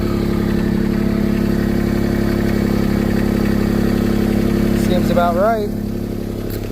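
A machine's engine idles steadily with a low, even drone while someone speaks briefly, then the engine is shut off and the rumble drops away near the end.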